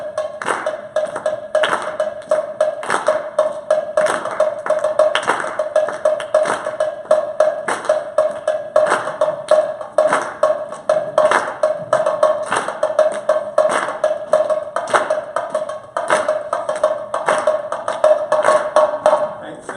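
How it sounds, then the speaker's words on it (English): A live audience claps in unison, hands beating out the steady alternating light and heavy strokes of a Brazilian surdo drum pattern, loud, even and repeating throughout with no pauses. "go ahead and clap as if you're playing the surdo"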